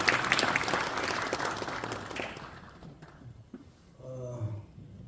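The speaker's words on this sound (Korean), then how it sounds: "박수 드리겠습니다." A short burst of crowd applause at a church presbytery meeting, dense clapping that fades away after a couple of seconds, followed by a few faint sounds and a low voice.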